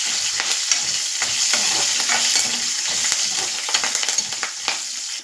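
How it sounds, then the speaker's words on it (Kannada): Garlic, green chillies and curry leaves frying in hot oil for a potato sambar give a loud, continuous close sizzle with intermittent stirring scrapes and no talk. "ಈಗ ನೀಟಾಗಿ ಫ್ರೈ ಮಾಡ್ಕೊಳ್ಳೋಣ"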